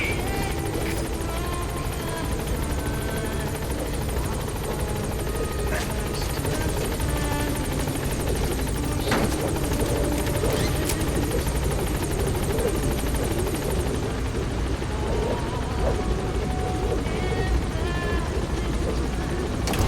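A support helicopter in the video game Metal Gear Solid V roars loudly and continuously as its rotors thump through a landing approach, with occasional radio chatter and game sounds.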